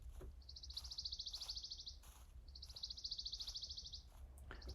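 Synthetic bird chirps in an object-based spatial audio demo, repeating as two bursts of rapid high trills separated by a pause, with faint background hum and no voice.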